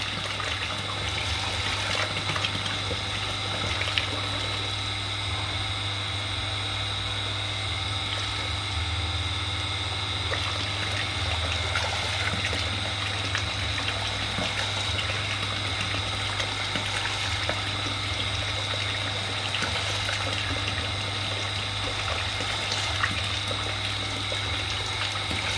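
Water runs through a pump fed from a main line, a steady unbroken hum with a constant watery rush and faint trickling, loud and close throughout.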